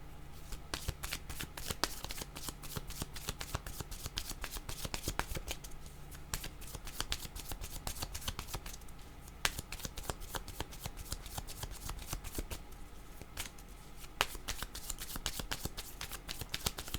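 Tarot cards are shuffled by hand in a rapid, continuous riffle of crisp flicks and snaps, close and fairly quiet, repeating steadily for the whole stretch without speech.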